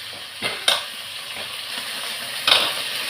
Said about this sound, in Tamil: இதெல்லாம் போட்டு நல்லா வதக்கிட்டுதெல்லாம் நல்லா வதங்கட்டும்.